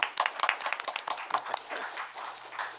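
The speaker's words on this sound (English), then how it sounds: "so we'll give him a round of applause" A small group claps for Garrett at an Irondequoit town board meeting, a brief burst of scattered, fairly close handclaps that thins out and fades over a few seconds.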